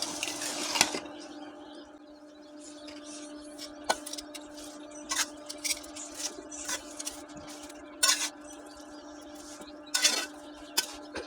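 Cabbage is stirred in a cooking pot, with scattered metallic scrapes and clinks over a quiet steady hum, faint and intermittent at close range.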